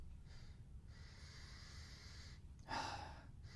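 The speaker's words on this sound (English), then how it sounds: "when you sniff the actual deodorant" A single sharp sniff of a Dr. Squatch deodorant close to the microphone, a short burst of breathy air after a few seconds of quiet room hiss.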